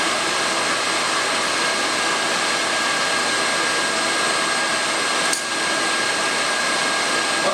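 Acer mill cutting metal at roughly 3,000 RPM, a steady loud broadband whirring hiss with a brief dip in the middle, no voices.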